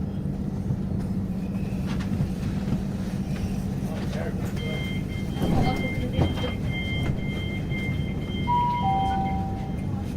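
A Great Western Railway passenger train running toward London Paddington, heard from inside the carriage as a steady low rumble with high whining tones. The train noise continues throughout under faint talk.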